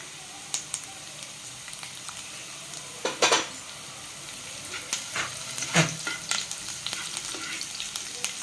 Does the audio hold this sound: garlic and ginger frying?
yes